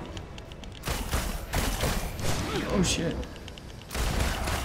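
Gunfire in the Avengers video game comes as sustained rattling bursts with brief pauses between volleys, loud and dense, with a voice exclaiming over it.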